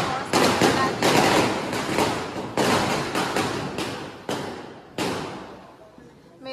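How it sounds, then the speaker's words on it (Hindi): A rapid string of loud firecracker bangs at a Diwali celebration going off one after another, with sharp repeated cracks and a crackling outdoor echo between bursts. "पटाखों की आवाज ज्यादा आ रही है"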